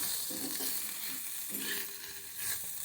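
Egg and fenugreek leaves sizzle gently in a pan while being stirred, a soft, low hiss with light scraping over a few seconds, close and fairly quiet, no voices.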